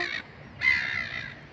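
A crow caws twice in Finland, harsh and fairly close, with a short gap between the two calls.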